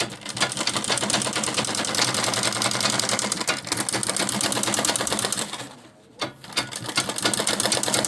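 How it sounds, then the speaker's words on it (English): A sewing machine stitches along the seam of a homemade fabric shopping bag, a steady close buzzing run that pauses briefly near the end before starting up again. "You sew it from one end to another end"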